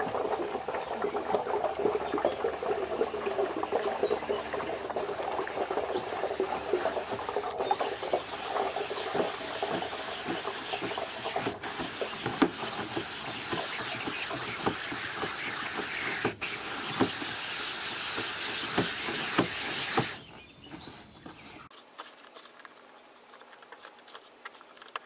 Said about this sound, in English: now, I can just run that through the sieve